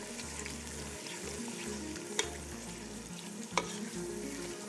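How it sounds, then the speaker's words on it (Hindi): Minced meat (keema) sautéing in a pan for aloo matar biryani, a steady sizzle broken by a few sharp spatula scrapes, close and moderately loud with no talking. "अच्छे से आपने भूनना है इतना कि इसमें से जो है कीमे की हमक जो है वो ख़त्म हो जाए"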